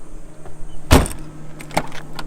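Car door on a Nissan 300ZX Z31 with worn-out door strikers swinging shut, one sharp close thud followed by a lighter rattling knock a moment later, near and loud in a quiet setting.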